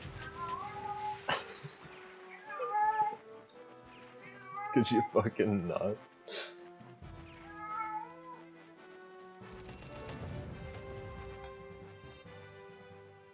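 A cat in the room meows several times, with clear wavering cries and one strained caterwaul, while someone talks over game audio and swears at it.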